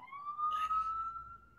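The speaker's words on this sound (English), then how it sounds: "Every 5 minutes you hear the ambulance go." A police or ambulance siren in a city wails in a single steady rising tone, thin and distant, with a brief burst of other noise partway through and no speech.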